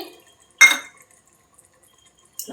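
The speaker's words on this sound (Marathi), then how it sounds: "सो आणखीन थोडं मी पाणी घालते" Water is poured into a pot of cooking masoor dal in two short, close splashes separated by quiet.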